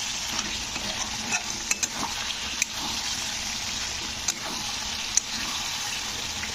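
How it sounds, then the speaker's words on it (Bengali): Chicken stomach curry being stir-fried in a pan without oil: a steady broadband sizzle with occasional scrapes and clicks of the spatula against the pan, fairly close and continuous, with no talking. "তো এবারে এটাকে কিন্তু আরও আমি এমনি না ঢাকিয়ে কষতে থাকবো"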